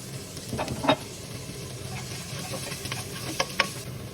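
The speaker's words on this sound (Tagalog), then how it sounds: "Nung mag-golden brown na yung bawang, isinunod ko na yung sibuyas." Garlic browned golden in oil, then onion added to sauté, with a faint steady sizzle and a few clear stirring scrapes and clinks near the start and end, no voices.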